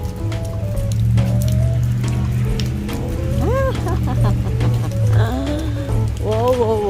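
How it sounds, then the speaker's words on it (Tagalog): Rain falls steadily outdoors during a shopping trip, a constant close patter and splash on surfaces with a low traffic rumble beneath, while people talk over it. "Oh, it's raining again."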